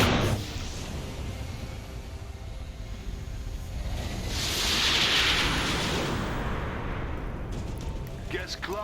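A particle cannon fires in the War For Wakanda video game, a long roaring energy blast that swells in the middle and fades over a continuous rumble of combat noise.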